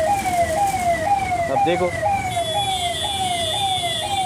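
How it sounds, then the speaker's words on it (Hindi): Ambulance siren wailing in a steady repeating up-and-down sweep amid road traffic on a hot day, loud and close with constant engine rumble underneath, and someone briefly speaking over it. "अरे कोई एम्बुलेंस को भी साइड दो भाई।"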